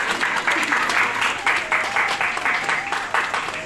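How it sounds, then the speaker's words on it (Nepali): Audience applause at an honouring ceremony for a community group in Qatar, a dense, steady wash of many hands clapping together, fairly loud and sustained throughout, with a faint voice underneath. "यहाँ सबैजनाले ताली बजाइदिनुको लागि पनि म हार्दिक अनुरोध गर्दछु।"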